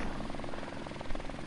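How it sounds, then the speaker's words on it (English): Enemy helicopter in the video game Modern Warfare Remastered, a steady rotor thrum with rhythmic blade chop holding at moderate level throughout, with faint game noise beneath. "Oh, it's an enemy helicopter."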